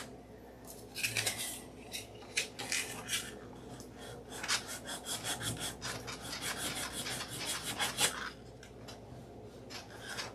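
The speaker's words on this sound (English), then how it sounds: "I'm gonna sand it off." Sandpaper being rubbed over a surface to remove a small white spot, producing repeated close rasping, scratchy strokes in uneven bursts for about ten seconds with no talking.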